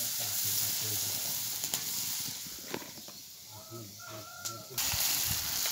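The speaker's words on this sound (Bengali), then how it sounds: "এবার আমি মরিচে হলুদে যা করলাম মিক্স করলাম, এবারে দিয়ে দিলাম। এবার কষে নি, ভালো করে কষে নি।" Onion sizzles and fries in hot oil with mixed chili and turmeric as the masala is cooked down, a steady loud crackling hiss that runs throughout, with brief stirring knocks and a faint rooster crowing in the background.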